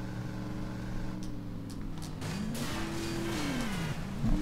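A car in Driver: Parallel Lines drives cross-country off the road, its engine droning steadily while the pitch rises and falls with revs and a whining tone sweeps up and down, moderately loud, with no talking.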